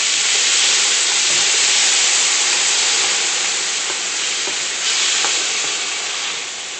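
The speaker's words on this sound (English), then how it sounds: "So we're gonna add a mix of red pepper, green pepper, yellow pepper, and onions, and we're gonna add to the pot. And we're gonna saute it." Red, green and yellow peppers with onions sauté in a pot, a loud, steady sizzling hiss that holds strong throughout, with faint clicks from the pan near the end.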